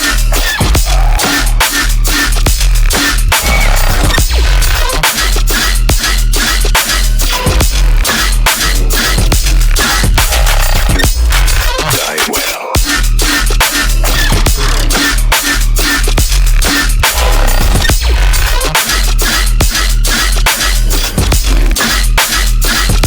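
Dense electronic rhythm in the style of an electronic artist, with deep basses made in the Phase Plant synth, pulsing steadily at full volume for the whole stretch with busy layered textures and no voices.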